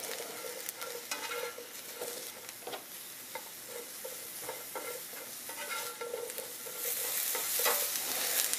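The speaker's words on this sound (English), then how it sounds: "So we're browning the mushrooms as well." Shiitake mushrooms sizzle and brown in coconut oil in a stir-fry pan, a steady crackling fry broken by repeated scraping stirs that grow louder toward the end.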